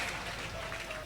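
A church congregation applauding, a dense, continuous wash of clapping filling the room at moderate volume, with a voice speaking over it.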